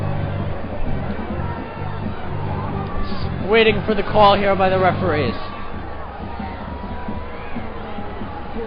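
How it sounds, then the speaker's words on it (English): A crowd at a 2013 Hendricken–LaSalle high school football game keeps up a steady roar of cheering and babble, swelling briefly in the middle, with a commentator talking over it. "But I don't know why they're cheering."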